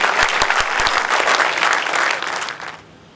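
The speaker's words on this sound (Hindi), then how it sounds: "जोरदार तालियों का स्वागत करें।" An audience at a community welcome event in Alvar breaks into loud applause, with a few sharp near claps at first, then dense clapping that fades away near the end.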